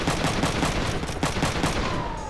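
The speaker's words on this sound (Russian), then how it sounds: "Сейчас должен быть последний выстрел, скорее всего" Rapid gunfire in the video game Front Mission 3 rattles on without pause, loud dense bursts of shots overlapping one another.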